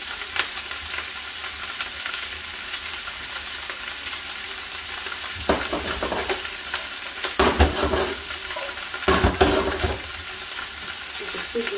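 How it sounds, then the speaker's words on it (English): Vegetables sizzle and hiss steadily in a pan during a vegan tofu stir fry, with louder bursts of stirring and tossing partway through; no one speaks. "Stir fry the vegetables until they're nice and soft"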